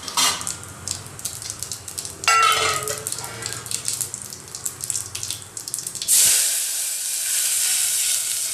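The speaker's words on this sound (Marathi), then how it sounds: "याच्यानंतर डायरेक्ट पाणी ओतायचं." Water is poured into a pot of hot oil and cumin tempering while cooking Maharashtrian horse gram shengole. Crackling sizzle comes first, then a loud, steady rush of hissing steam takes over for the last couple of seconds.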